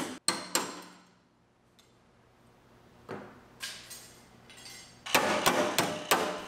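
A hammer strikes rusty frame rail pieces on a 1965 vehicle to break them off: sharp, loud metallic blows, a few spread irregularly at first, then a quick cluster of strikes toward the end, with quiet pauses between.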